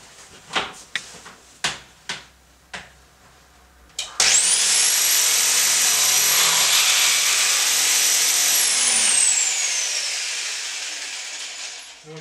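An electric jigsaw fitted with a fine-tooth metal blade cuts through a pipe, loud buzzing for several seconds that then winds down, preceded by a series of sharp taps and clicks.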